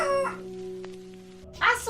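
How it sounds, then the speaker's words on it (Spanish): A hen cackles in short, loud, harmonic squawks at the start and again near the end, with a low steady hum in the quiet between. "de pronto el cántico de una gallina turbó el calmado silencio"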